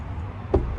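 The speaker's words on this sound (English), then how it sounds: "Knock on wood." Two sharp knocks on wood, spaced a short moment apart, close and fairly loud over a low room rumble, with no talking.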